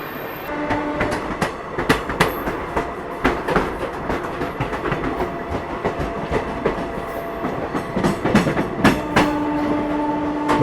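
The Ayodhya Express overtakes on the parallel track beside a New Delhi–Howrah special train near Ghaziabad, with continuous rail rumble and repeated clickety-clack beats of wheels over joints, close and steady for about ten seconds.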